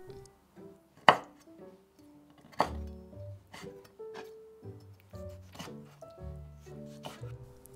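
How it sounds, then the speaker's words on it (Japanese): A knife chops Momoya pickled mustard stem (zha cai) on a cutting board in a home kitchen, with a series of irregular close thunks and taps, two sharper strikes standing out, in a quiet room. "きゅうりを置いている間にザーサイを切ります。"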